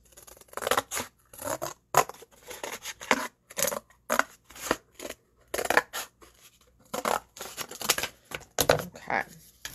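Scissors snipping through paper for a craft project, close and clear in repeated short bursts of crisp cuts with brief pauses between strokes, a steady rhythmic series of snips.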